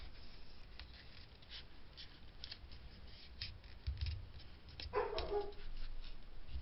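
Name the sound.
dog barking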